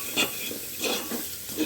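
A spoon stirs coriander powder, turmeric and other spices together in a pan for dal tadka, giving a few rhythmic scraping strokes over a soft steady hiss.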